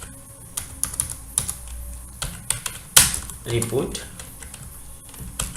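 Computer keyboard keys tapped in irregular bursts while a file name is typed for a payroll report PDF, close and moderately loud, with someone speaking Bengali over the typing.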